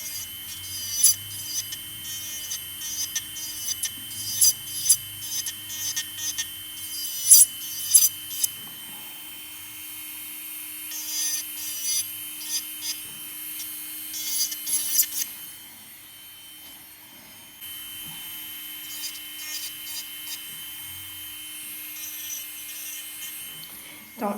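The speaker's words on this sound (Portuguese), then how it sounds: "eu vou lixar somente em cima da tip" Gel nail extension tip being filed with a nail file, giving bursts of close, fine rasping strokes in quick rhythmic runs, then a softer, steadier stretch of light filing, with no talking.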